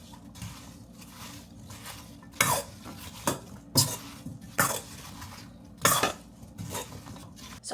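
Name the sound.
stirring apple pie filling with honey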